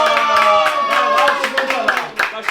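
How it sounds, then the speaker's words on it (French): Several people clapping hard in rhythm at a lively gathering of Algerian and Gitan community members, with singing and voices running over the beat throughout. "On applaudit très fort Michel"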